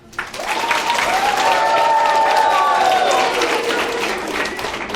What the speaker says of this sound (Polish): Powitajmy go oklaskami.